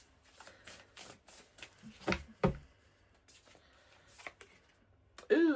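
Tarot reading cards shuffled by hand in a quiet room, a run of riffling, flicking bursts with short pauses, close and fairly soft, ending in a louder flurry.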